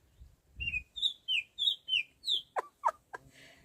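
A backyard garden bird sings a clear run of six evenly spaced rising whistled notes, then two sharper chirps, close and alone against a quiet background.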